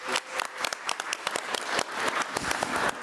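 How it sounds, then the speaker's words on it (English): A round of applause at a school board meeting, with fairly close, crisp individual claps sounding irregularly throughout and no talk over them. "Let's give her parents a round of applause."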